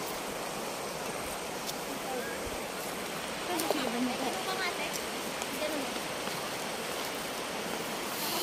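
A river flows among mountains in a steady broad rush of water, constant and fairly close, with a few faint ticks and bumps and no clear talk over the flow.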